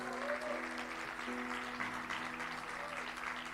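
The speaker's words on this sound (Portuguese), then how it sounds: "Eu quero que você celebre com isso, com um aplauso ao Senhor," Church congregation breaks into sustained applause, steady clapping throughout in a reverberant, echoing hall, with faint background tones beneath.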